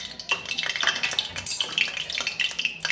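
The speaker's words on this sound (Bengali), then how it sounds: "লঙ্কা গুঁড়ো দিয়েছি, ভেজে নিচ্ছি।" Paneer coated with salt, cornflour and chili powder frying in a pan, a close busy sizzle broken by frequent spatula scrapes and clinks against the metal, with no talking.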